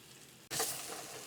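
Pizza chutney sautés in a pan, a close crackling sizzle that bursts in suddenly and holds steady to the end.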